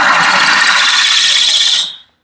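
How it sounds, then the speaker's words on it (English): A drill bit grinds through wet ceramic wall tile in one steady, loud, high-pitched whine lasting about two seconds before cutting off abruptly. "I'll continue to get it wet as I'm drilling."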